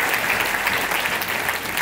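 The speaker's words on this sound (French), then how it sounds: "On applaudit les 5 nommés dans cette catégorie importante" A full room claps for the five nominees at the Pierre d'Or real estate awards ceremony, a steady, dense wash of applause with no voices over it.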